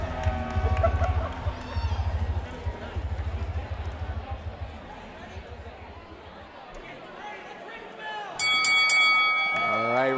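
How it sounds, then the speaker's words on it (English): Indoor wrestling match at a NEW event: the crowd murmurs and stomps, then near the end the referee's bell rings out in bright, repeated clangs over the hubbub. "Referee ringing the bell here,"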